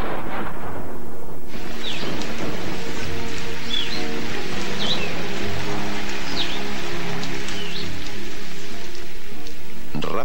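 Heavy rain pours down loudly and steadily, a dense continuous roar with occasional faint bird calls above it.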